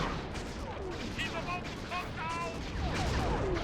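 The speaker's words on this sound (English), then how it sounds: "Just keep firing." Video game gunfire in Sly 3: Honor Among Thieves, a steady run of sharp, crackling shots under a game soundtrack and faint voices, with no clear pauses across the stretch.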